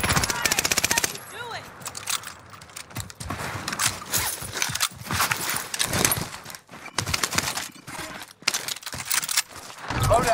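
Rapid automatic gunfire and scattered shots from Call of Duty Warzone, with dense bursts throughout and game sounds between them.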